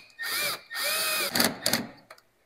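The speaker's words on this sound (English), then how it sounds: "tighten them up with your 10mm socket" A power tool with a 10mm socket runs in two steady whirring bursts while tightening screws on a Ford Explorer horn mount, followed by brief clicking and rattling, close and clear.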